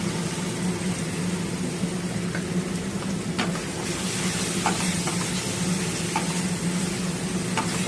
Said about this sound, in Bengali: এখন আমি এর মধ্যে দিয়ে দেবো রসুন বাটা